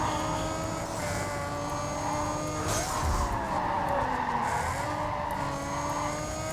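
Tires squeal and skid loudly as a car brakes hard into sharp turns during a street race in Need for Speed Carbon, long screeching slides over a constant engine roar.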